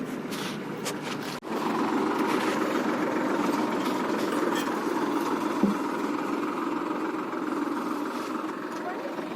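A tractor engine that has just been pulled free after getting stuck runs steadily and loud at close range, a continuous low rumbling drone after a brief thump near the start.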